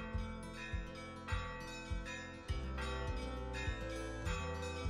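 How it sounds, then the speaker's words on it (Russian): A welded metal weathervane part rings with bell-like tones as slag is knocked off it, giving a series of sharp strikes roughly every half second, each followed by a sustained metallic ring. "О, колокольный звон прям."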